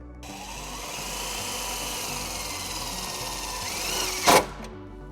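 Power drill driving a self-tapping screw into the sheet-metal body lip of a 2021 Jeep Wrangler: a steady close whir lasting several seconds, ending in a brief louder bite as the screw seats.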